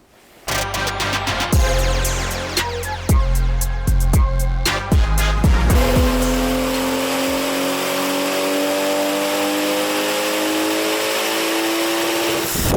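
A B58-swapped BMW E46 Touring strapped to a dyno roars through repeated full-throttle sweeps, its loud engine note climbing and falling in quick bursts before settling into one long, steady rising pull with no voices over it.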